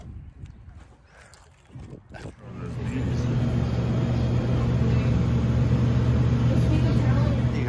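A tractor engine starts up on a farm after some brief rustling and a voice, then settles into a loud, steady, low rumble that runs to the end.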